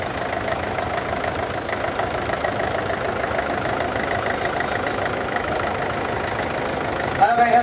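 A 1960 BM Victor tractor with a two-cylinder diesel engine idles at a steady rhythmic chug in an outdoor tractor parade, loud throughout and mixed with someone talking over a public address.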